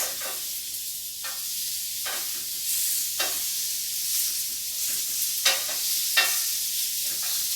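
Fish strips and onions for Hawaiian fish tacos sizzle steadily in a frying pan, a close, continuous hiss broken by several brief scraping stirs and turns, with no talking.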